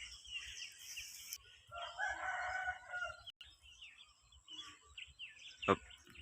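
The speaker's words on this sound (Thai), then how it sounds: "เสียงไก่ขันนะครับ" A rooster crows in the countryside on a cool, overcast, drizzly morning, heard at moderate distance amid birds chirping as they leave their nests, with faint background noise and a brief sharp call near the end.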